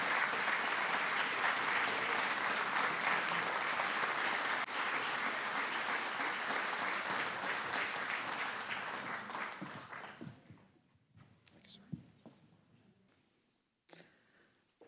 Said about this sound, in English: Let's have another round of applause for retired Major General Mr. William J. Maul, Jr.